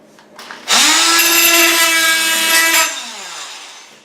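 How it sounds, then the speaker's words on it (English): A power tool grinding out tile grout starts abruptly, whines at a steady loud pitch for about two seconds, then winds down and fades as it stops. "all you gotta do is hit it with a power tool"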